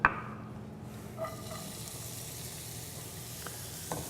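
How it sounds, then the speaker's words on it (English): Onions, celery, shallot and garlic starting to cook in olive oil over medium-high heat, a soft steady sizzle after a brief initial clatter, with a few faint utensil taps. "I want to start with the aromatic vegetables cooked down with some olive oil"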